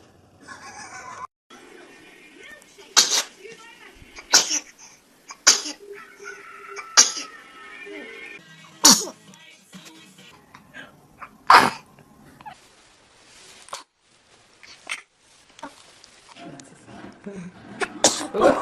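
Baby sneezes, several small sharp bursts spread across the stretch, with adult voices and background chatter between them.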